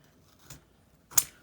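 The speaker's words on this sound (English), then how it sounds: "Let's get the bigger scissors." Scissors snip through a paper window envelope while crafting a tag, giving one sharp, close cut near the end after a softer snip earlier, with no talking.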